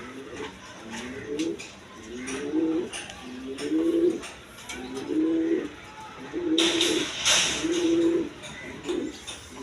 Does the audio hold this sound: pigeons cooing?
yes